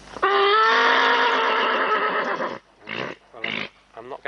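A horse lets out one long, loud neigh lasting over two seconds, followed by several shorter whinnying snorts and calls.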